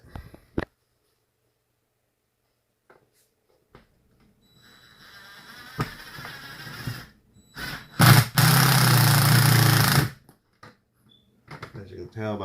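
A power drill whines up, then grinds loudly for a couple of seconds as it bites into a solid wooden beam overhead, after a quiet stretch with faint taps.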